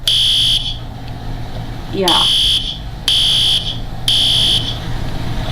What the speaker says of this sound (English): My son just pulled the fire alarm by accident